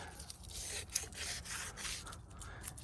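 Aluminum foil soaked in vinegar scrubs rust off chrome on a Honda Shadow VT1100 motorcycle wheel, a close, continuous scratchy rubbing with quick back-and-forth strokes.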